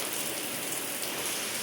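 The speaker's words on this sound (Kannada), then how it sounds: "ಫುಲ್ ಮಳೆ ಎಲ್ಲ ಬರ್ತಾ ಇದೆ." Heavy rain falling outside near home, a soft steady hiss of drops, continuous and fairly faint, no talking.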